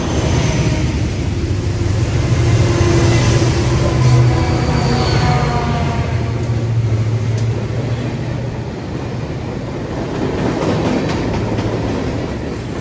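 Pan Am Railways freight train, which had earlier caught fire, rolling past in Wells with a loud, steady rumble and faint rail clatter that swells and eases slightly over several seconds, without any talking.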